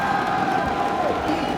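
At the IPL4 esports event in Las Vegas, a large arena crowd roars and cheers in a steady, far-off wash of noise under a raised voice.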